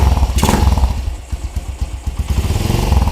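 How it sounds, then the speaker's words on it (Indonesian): Custom Bali-style Honda CB motorcycle engine running through its exhaust, a loud, close, lumpy idle with uneven low thumps and a brief rise partway through. "Nah, ini kita tes suara mesinnya."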